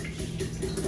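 Soaked almonds and their water poured into a container, a short wet splashing gush at moderate level, close by with no talking.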